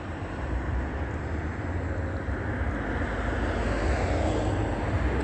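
Airplane engines overhead produce a constant, dense roar that builds slightly over several seconds, heard alone without any speech.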